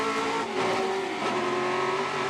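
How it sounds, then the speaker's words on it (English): Ford GT40 race cars roar toward and past on a circuit, a sustained loud engine drone with a rising pitch as they approach and pass close by. "It's one of the slower GT40s as they come towards us"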